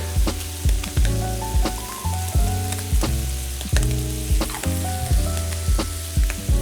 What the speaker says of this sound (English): So to this, I'm going to add my jalapeno peppers. Garlic.